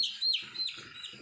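Young poultry chicks in a shed during eye-drop vaccination give a few quick, high chirps close by, sharp rising peeps in short succession.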